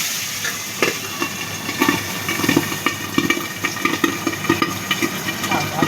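Pabda fish frying two at a time in hot oil, a dense steady sizzle with crackling pops and spits throughout, fairly loud and close.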